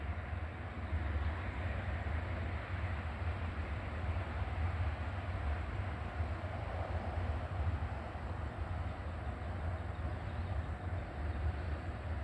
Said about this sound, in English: And we got a train coming down the hill out of the south, northbound.